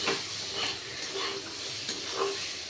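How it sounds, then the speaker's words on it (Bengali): Green beans and potatoes fry in a pan with a continuous crackling sizzle, broken by a few brief scraping stirs, close and fairly quiet with no talk. "বরবটি আলুটা প্রায় ভাজা ভাজা হয়ে গেছে"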